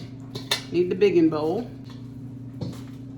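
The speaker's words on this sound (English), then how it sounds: "we're going to grab a bowl. Grab one of the big ones." Ceramic and metal dishes clink and rattle as a large bowl is pulled from a stack in a kitchen, a few close clatters with a voice talking alongside.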